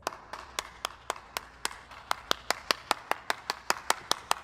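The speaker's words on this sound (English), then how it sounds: "I think I deserve a round of applause" One person claps alone, close and crisp, about sixteen sharp claps in an even rhythm that quickens slightly toward the end, with no other sound.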